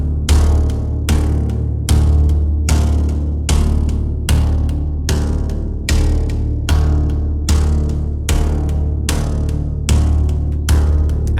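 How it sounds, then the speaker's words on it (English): Hybrid tone built from a heavily processed acoustic guitar recorded through a contact mic: loud, resonant struck notes repeating about every second in a steady pulse, each with a sharp attack and a ringing decay. "I've created this sound with acoustic guitar with the contact mic,"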